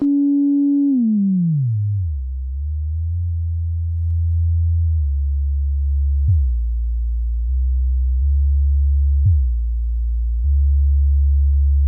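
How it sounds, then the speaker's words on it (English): Deep synthesizer tones from a Behringer Poly D, the filter cutoff swept as pitch: a tone glides down into the low end, then steps between sustained bass notes with soft clicks at changes, loud and clean. "the filter cutoff itself is functioning like a pitch knob, meaning movements on the cutoff will create different pitches."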